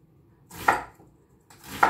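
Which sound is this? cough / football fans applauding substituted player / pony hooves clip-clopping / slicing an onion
slicing an onion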